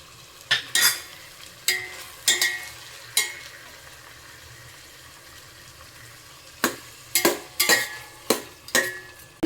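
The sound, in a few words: sautéing mint and coriander leaves with tomato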